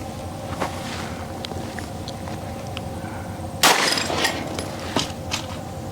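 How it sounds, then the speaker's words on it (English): A single sharp report from a full-size Glock firing Federal 9mm 124 grain HST rounds, loud and close, breaking through faint outdoor background with a brief ringing tail and a few lighter knocks after. "let's take a look at the head being shot now. This is Federal 9mm 124 grain HSTs out of a full-size Glock."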